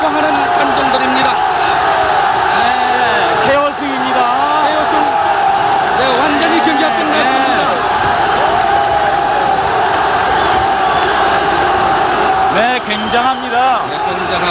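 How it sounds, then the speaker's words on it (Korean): A large arena crowd roars continuously after a knockdown at a professional boxing match between Sung Jun Kim and Netrnoi Sor Vorasingh, loud and sustained, with excited Korean commentators talking over it. "열광하는 관중들입니다."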